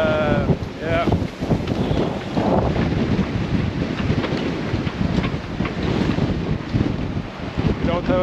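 Strong wind buffets the microphone aboard a sailboat on the North Sea, a loud continuous roar with gusts and water rushing against the hull throughout, and no talking.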